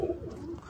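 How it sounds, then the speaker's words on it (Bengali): A racing pigeon that has flown in competition gives a short, close coo, one rolling phrase under a quiet background. "এই একটা তার মধ্যে পায়রা, এটা কম্পিটিশনে উড়েছে।"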